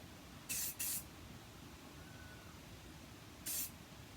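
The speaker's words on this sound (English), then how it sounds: "wee cheapy hairspray just to spritz on some extra hold hairspray, just to keep the curls in place." Cheap extra-hold hairspray hisses from an aerosol can onto curled hair: two quick bursts close together, then a pause and one more short burst, all in a quiet room.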